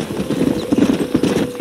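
Horse hooves clip-clopping in a steady trot with a short whinny, from the Red Dead Redemption video game on Xbox, close and continuous across the whole moment.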